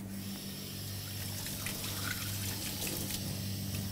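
Water runs steadily from a kitchen tap while hands are washed under it after handling raw lamb meat, a continuous close trickle with faint splashes and a low steady hum beneath, no talking.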